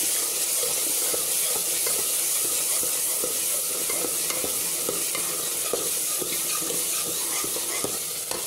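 Curry masala for a jackfruit dish fries in cumin-infused oil with a constant close sizzle and hiss, broken by repeated scraping stirs of a spoon against the pan, with no talk.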